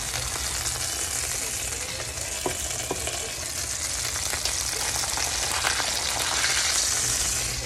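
Chicken breasts fry in a skillet with a constant bright sizzle and spatter, close and even throughout.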